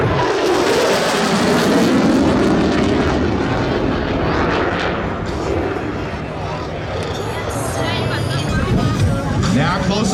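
An F-16 jet makes a high-speed low pass just under the speed of sound at a 2017 New York airshow, a loud sustained engine roar that swells and stays close for the whole stretch.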